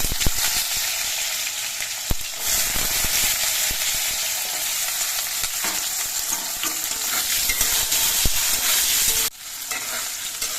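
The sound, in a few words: potatoes frying in oil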